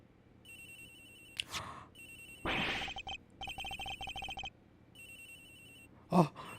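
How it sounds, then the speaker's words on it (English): A cell phone in a video game rings with repeated bursts of trilling electronic tone, fairly faint, broken up by a few short sound effects and a brief sharp gasp-like sound near the end. "cell phone signal's hearing from somewhere else"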